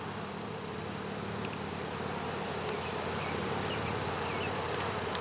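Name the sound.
honey bees buzzing around an open hive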